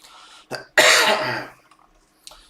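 A single sharp cough follows a short throat clear, loud and close, with a faint small sound trailing after a pause.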